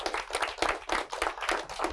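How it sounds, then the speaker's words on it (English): A classroom of students claps in a brief round of applause, with distinct rhythmic bursts of hand claps that are moderately loud and close, with no talking over them. "yes, a nice round of applause for Miss Bennett"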